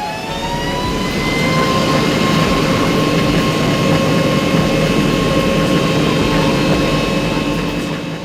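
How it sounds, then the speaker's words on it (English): A loud, steady jet engine roar with a high whine, rising as a plane powers up for takeoff and holding strong throughout. "the pilot will increase the speed of the engine for takeoff"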